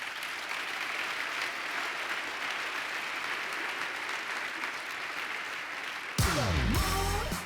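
Continuous applause fills a conference keynote hall, a broad steady wash of many hands clapping that cuts off abruptly near the end as a bright musical tone takes over.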